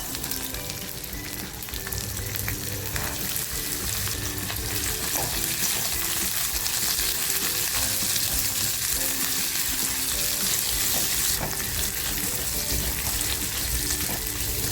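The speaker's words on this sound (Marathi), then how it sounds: "थोडंसं तेल टाकते आहे मी बिया शिजवून घेतलेल्या नाही आहेत त्याच्यामुळे थोड्याशा फ्राय करून घेणार आहे" Raw jackfruit seeds fry in a little oil, giving a dense, steady sizzle that stays loud and even throughout, with faint clinks and scrapes of stirring mixed in.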